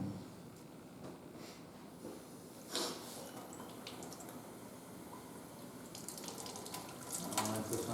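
Tap water runs steadily into a sink to rinse a water sample bottle, a constant splashing wash with a few brief clinks and louder bursts toward the end, faint voices in the background.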